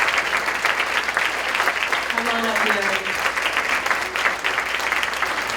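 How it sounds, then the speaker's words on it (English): Steady audience applause for charity runners at a Boys & Girls Clubs awards ceremony, dense and sustained throughout, with a voice briefly speaking over it. "if we could just have one more round of applause for our charity runners"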